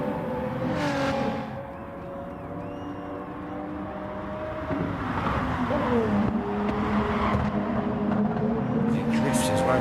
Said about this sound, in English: He drifts his way around the corner.